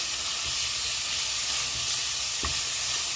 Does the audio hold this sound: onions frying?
yes